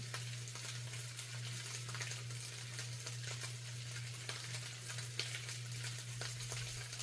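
Tocino meat frying in a pan, a soft, steady sizzle with light stirring scrapes over a constant low electrical hum.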